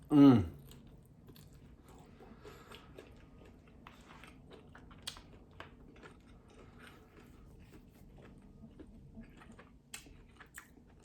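Someone bites into grilled garlic shrimp during a mukbang meal, a sharp loud bite at the start followed by faint, scattered close chewing and small crunches, with no speech.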